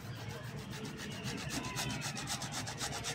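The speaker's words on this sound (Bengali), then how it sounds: "টমেটোটা একটু বন্ধুরা গ্রেট করে দিচ্ছি" A tomato is rubbed against a kitchen grater, a quiet rapid series of rasping strokes repeating in a steady rhythm.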